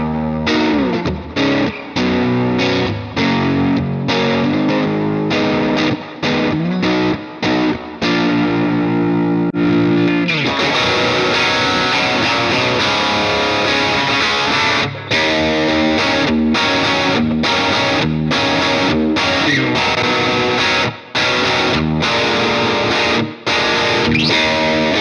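Electric guitar played through a Mooer Prime M2 multi-effects unit on a slightly dirty, lightly overdriven tone, with strummed chords and riffs ringing continuously and loud with no talking.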